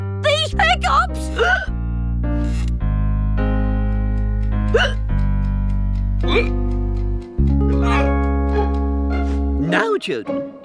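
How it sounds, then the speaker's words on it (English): Cartoon character hiccuping, several sharp vocal hiccup bursts spaced through a stretch of dialogue, close and clear, with background music underneath. "Oh, I've got to get rid of these hiccups."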